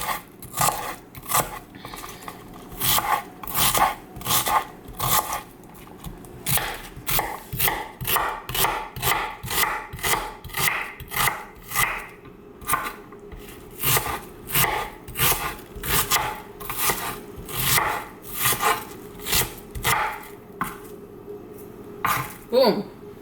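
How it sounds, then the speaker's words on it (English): A kitchen knife chops onions for a chicken curry, a steady run of crisp, close-up strikes against a cutting board in quick rhythmic bursts with short pauses between them, continuing throughout. "There is no formula for cutting your onions."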